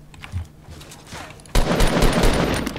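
Gunfire in the tank combat game TANX breaks out abruptly after a quieter stretch, as rapid, loud bursts of shots that continue densely to the end.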